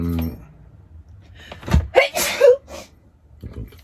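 A single sharp sneeze bursts out in the middle, loud and close, with brief vocal sounds before and after it.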